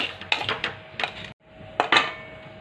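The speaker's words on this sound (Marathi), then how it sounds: "आता मी खसखस आहे ना छान भाजून घेते" Poppy seeds roast in a pan while being stirred, giving quick close metallic scrapes and clinks in short bursts, a brief pause, then a few more scraping strokes.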